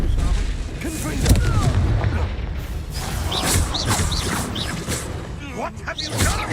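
In Hogwarts Legacy combat, a Confringo fire spell blast bursts amid other booms, whooshes and crackling effects, loud and busy, with a character's voice over the clash.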